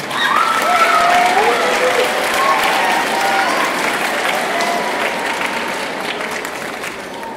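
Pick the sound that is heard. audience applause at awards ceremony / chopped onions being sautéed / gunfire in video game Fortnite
audience applause at awards ceremony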